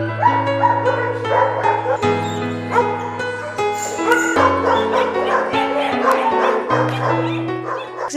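Many dogs at a municipal stray animal shelter in Kozani, Greece, bark, yip and whimper loudly and continuously, some close and some farther off, overlapping in a noisy chorus.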